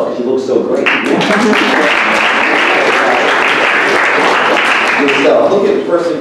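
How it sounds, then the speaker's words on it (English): A school audience bursts into loud, continuous clapping for themselves, swelling after a brief voice at the start and holding steady for several seconds with scattered cheers underneath. "Clap for yourself because you look so great."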